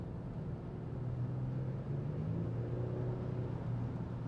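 A 2023 Kia Stinger GT with a 3.3 petrol V6 accelerating in comfort mode, heard from inside as a smooth, moderate engine hum that rises in pitch as it pulls, with low road rumble underneath.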